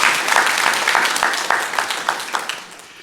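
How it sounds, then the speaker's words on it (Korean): Congregation clapping together during a Sunday morning church worship service, a dense steady wash of many hands that thins and fades toward the end. "한해 누리 영광의 박수를 우리 하나님께 올려드리겠습니다"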